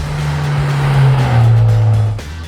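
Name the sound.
2015 Ford Mustang EcoBoost being driven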